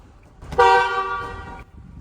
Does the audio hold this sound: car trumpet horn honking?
yes